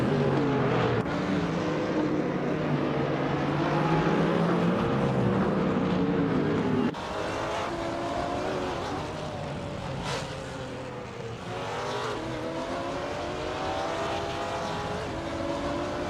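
Race cars in a racing video game roar continuously through the clip, with engine pitch sweeping up and down as they shift and accelerate, loud and steady with no talk.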